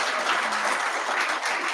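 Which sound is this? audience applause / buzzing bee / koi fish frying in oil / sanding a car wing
audience applause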